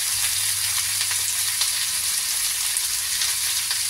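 Vegetables, including bean sprouts and tofu, sauté in a hot pan with a loud, bright, continuous sizzle and fine crackle that holds steady throughout, with no talking.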